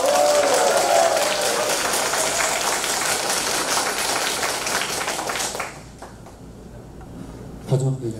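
Audience applause at a Korean local election candidates' debate for county governor in Gangjin, a dense, loud burst of crowd clapping lasting about five seconds, then dying away into quiet room noise with a brief sound near the end.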